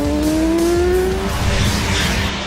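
Loud car engine in a video game city chase, with a rising squeal of tires skidding over roaring motor noise, close and intense.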